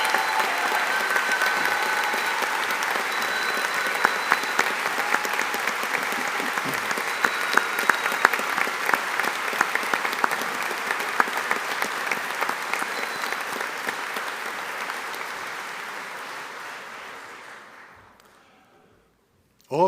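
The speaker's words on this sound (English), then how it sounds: "Let's give our graduates of 2026 a big round of applause" Audience at a university Faculty of Engineering graduation ceremony applauds the graduates in a long, dense, steady burst of clapping that holds for most of the stretch, then fades out toward the end.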